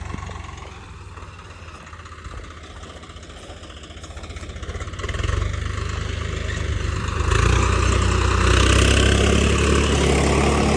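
A tractor ploughs a field with a steady, rumbling engine drone that swells louder partway through and holds there, with no voices.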